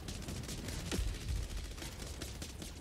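Dense, continuous gunfire and explosive strikes rumble around an extraction point in the video game Helldivers 2, a steady barrage with a few heavier thumps in the middle.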